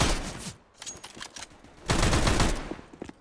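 Rifle gunfire in Counter-Strike on the Nuke map at an esports match, heard as loud, rapid broadband bursts, one volley early, scattered shots, then a longer sustained burst of fire near the end.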